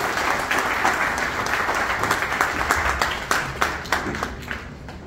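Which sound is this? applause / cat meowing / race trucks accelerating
applause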